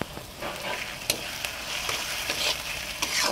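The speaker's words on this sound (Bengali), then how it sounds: "পেঁয়াজ হালকা ভেজে নিয়েছি, এখন দিয়ে দেব টমেটো কুচি আর কাঁচামরিচ কুচি" Chopped tomato and green chili frying with lightly browned onions in a pan for spicy crab bhuna, a continuous close sizzle with repeated spoon scrapes and taps throughout.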